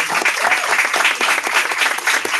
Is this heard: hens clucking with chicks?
no